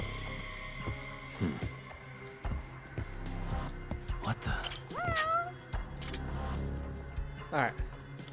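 A cat meows now and then in the Japanese detective video game Judgment. The meows are short and scattered over quiet game ambience and background music.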